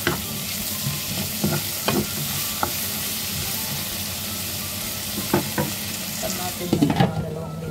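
Tomatoes sautéing in a pan for a dish of eggplant with string beans and mushrooms, a continuous sizzle broken by scattered scraping stirs and clinks, louder spatula knocks near the end.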